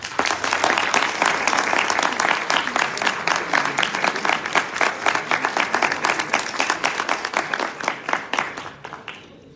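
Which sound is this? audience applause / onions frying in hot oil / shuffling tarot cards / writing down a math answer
audience applause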